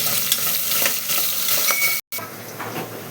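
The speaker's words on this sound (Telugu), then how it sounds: "పచ్చిమిర్చి, కరివేపాకు ఇందులో వేసుకోవాలి. అది కొంచెం గోలాలి." Green chilies and curry leaves being stirred in a frying pan over a steady sizzle, with soft scraping strokes and light clinks close by, briefly interrupted by a gap midway.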